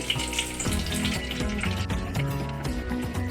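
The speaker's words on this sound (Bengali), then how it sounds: "এবার আমি ওই তেলের মধ্যেই কিউব করে কেটে রাখা পেঁয়াজগুলো দিয়ে দেব" Cubed onions hitting hot oil in a pan for paneer do pyaza, a steady close-up hiss of frying with a wet, bubbling texture and faint clinks, no voices.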